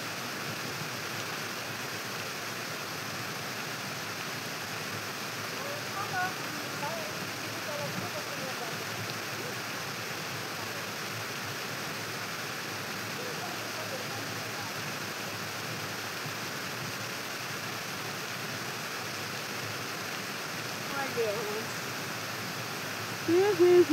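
Water gushing steadily from a broken pipe, a constant broadband rush of running water that stays even throughout, close by, with a few soft muffled sounds near the end.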